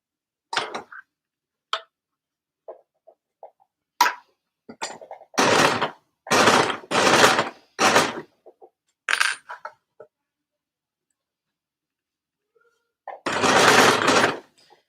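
A sewing machine stitches a sleeve head to an armhole in several short whirring runs, close and loud, separated by quiet pauses with small clicks and handling noises, then one final longer burst of stitching.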